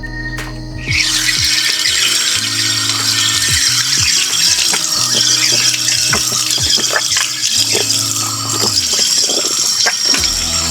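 Strong tap water runs at a farm campsite in Cavite, a loud, steady rush that starts abruptly about a second in and keeps flowing without a break.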